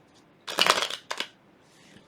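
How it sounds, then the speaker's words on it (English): A deck of cards shuffled close up, heard as two quick riffling bursts, the first longer and the second short, against a quiet background with no speech. "I'm going to shuffle the cards 3 times in a row"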